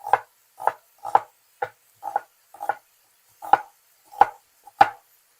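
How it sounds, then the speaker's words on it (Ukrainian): Nine knife strokes chop an onion into small pieces on a cutting board at a steady rhythm, close and crisp, with a brief pause midway before the last few chops. "Нарізаємо цибулю, коли наша сало смажиться."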